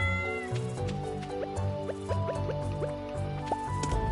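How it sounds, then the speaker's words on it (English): A cat in the Stardew Valley video game gives a clear meow over cheerful melodic game music with soft dripping sounds, near and moderately loud, with no talk. "There's my cat I need to go talk to."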